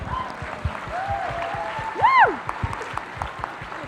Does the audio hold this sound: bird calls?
no